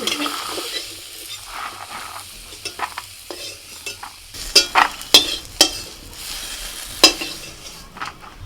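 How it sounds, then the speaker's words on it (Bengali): Eggplant pieces seasoned with turmeric and salt fry in oil in a pan, a continuous crackling sizzle joined midway by several sharp clinks and scrapes of a utensil stirring against the pan. "বেগুনটাকে একটুখানি হলুদ আর লবণ দিয়ে ভেজে নিচ্ছি"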